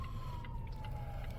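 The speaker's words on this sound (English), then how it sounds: "Background sirens." Distant emergency sirens wailing behind a steady low rumble of city traffic in Jersey City, faint and continuous with no voices.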